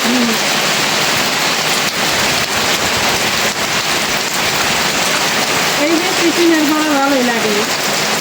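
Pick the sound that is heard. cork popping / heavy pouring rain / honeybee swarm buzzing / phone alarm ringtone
heavy pouring rain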